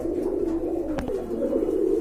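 Pigeons coo in a breeding loft, a Rajgolla pigeon among them, low rolling calls heard close and continuous with a brief sharp tap near the middle.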